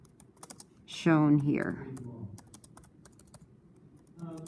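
Light clicking of computer keyboard keys, scattered taps in irregular bursts under and between a person talking.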